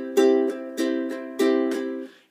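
A ukulele strums a chord in a rhythmic down-up pattern, with three accented strokes each followed by lighter upstrokes, close and clear with no voices.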